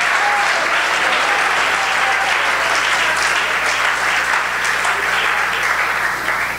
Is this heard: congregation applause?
yes